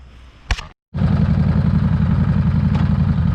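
Harley Davidson Street Rod 750 motorcycle, a short blip, a brief cut, then a loud, steady, throbbing engine drone at close range as it rides on the road.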